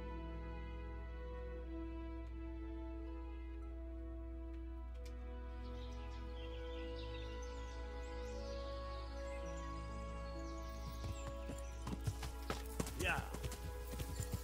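Steady clip-clop of horse hooves on a medieval road in Kingdom Come Deliverance, a soft continuous trot under an ambient game music drone, with sharper clatter and rustling toward the end.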